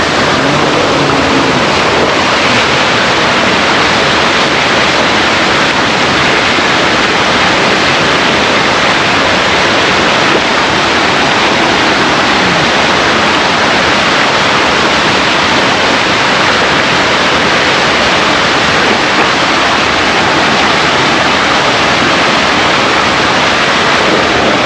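Loud, steady rushing of a river in Jamaica fills the whole stretch, a dense broadband roar with no pauses and no voices.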